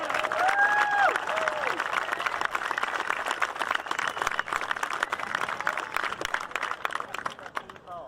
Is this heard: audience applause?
yes